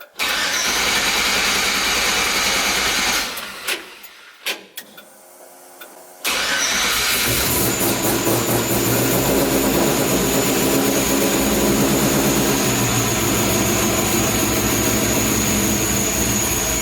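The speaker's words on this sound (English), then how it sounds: "So I'll give it some throttle." An LS-swapped Chevrolet C10 pickup with a Holley Terminator X setup and a crank signal fault runs under throttle. The engine cuts out and sputters for a couple of seconds, then fires back up and holds a loud, steady rev.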